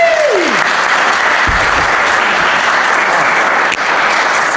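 An audience at a games festival keynote breaks into loud, continuous applause, dense and steady from start to finish with a brief vocal sweep at the opening.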